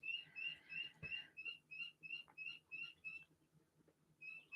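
Guinea fowl call loudly and close by in a rapid series of harsh, shrill repeated cries, keeping a steady rhythm with a short pause before the calls resume.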